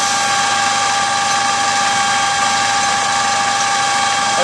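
Drive motor and gears of a four-square dyno running under load applied with a wrench, a loud continuous mechanical whine with steady tonal gear hum and no pauses.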